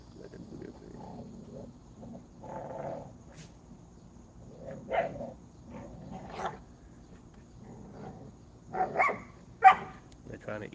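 Dogs bark and yelp in scattered bursts over a busy, murmuring background, with the loudest barks coming close together near the end.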